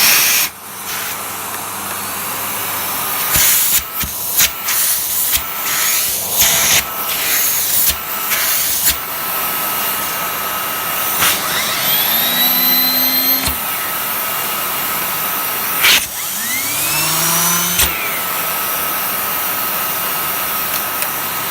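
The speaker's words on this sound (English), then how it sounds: "So I'll start it up on minimum." A refurbished Miele Cat & Dog TT5000 vacuum cleaner runs on its minimum setting, a steady close whooshing hum with several sharp knocks and rising whines as the motor and airflow shift, no talking.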